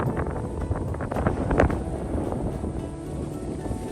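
Strong wind on a mountain rumbles against the microphone in a steady, loud, buffeting roar with a gust peaking midway.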